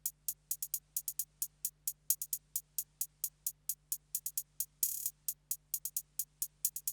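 Crisp hi-hat pattern in a trap beat made in FL Studio, alone over a faint low hum, with quick rolls and accented hits in a bouncing rhythm and one brief open hat.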